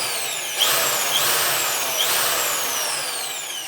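Power drill boring holes in a cigar box guitar for its tuning pegs, heard as three short whirring bursts that spin up with rising pitch, close and loud, with no talk.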